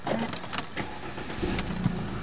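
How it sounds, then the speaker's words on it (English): A used car with grey leather upholstery and about 94,559 miles starts up, its engine turning over and settling into a steady mid-pitched run, close and moderately loud with no talk. "Vehicle starts nicely."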